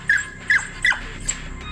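A dog barking in a rural Philippine setting near piles of rice husks, four sharp barks at steady intervals, the last one fainter, heard alone at moderate distance.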